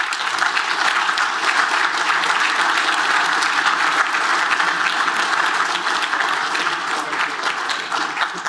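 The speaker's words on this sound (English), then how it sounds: "Big round of applause for Joseph." Audience at a farming event applauding an award winner, steady, full clapping from a sizable crowd that holds throughout and eases slightly near the end.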